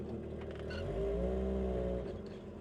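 A 1949 Willys Jeepster with an inline-6 Lightning engine and a 3-speed manual gearbox with overdrive pulls away, its low engine drone rising steadily as it accelerates, then easing off, heard from inside at moderate level.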